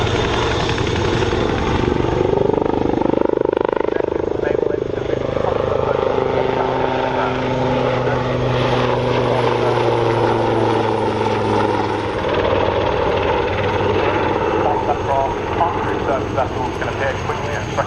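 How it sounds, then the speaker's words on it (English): A Royal Navy Wildcat helicopter flies by at an RAF Cosford air show, its loud rotor and engine roar sweeping past and holding steady, with a commentator talking over it. "The Wildcat has a more powerful engine and allows it to be flown in extreme weather conditions all"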